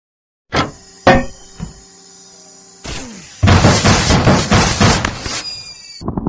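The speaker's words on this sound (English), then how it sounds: "it kind of looks like the SAM turret's shooting all of its missiles" Missiles launching from a SAM turret in the Henry Stickmin video game: a few sharp launch bursts, then a dense roaring run of repeated blasts and whooshes, loud and close.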